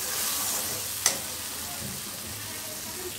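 Masala spiced with turmeric and salt fries in a pan for an eggless egg-style curry gravy made without onion, giving a steady close sizzling hiss with one brief clink partway through and no talking.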